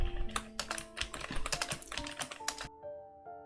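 Someone types steadily on a computer keyboard in rapid, close, crisp key clicks for nearly three seconds before the tapping stops, with faint tones lingering in an otherwise quiet room.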